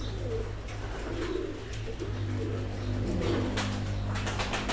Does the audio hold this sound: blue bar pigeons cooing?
yes